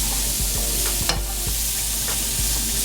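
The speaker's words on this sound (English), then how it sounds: "we're just going to let it saute for about 2 or 3 minutes" Food sautés in a pan with a steady close sizzle, broken by a few irregular clicks and taps of stirring, and no one talking.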